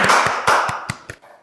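An audience bursts into brief applause after a sponsor mention on an insurance-sponsored podcast set, a short round of clapping with a few distinct claps that quickly fades.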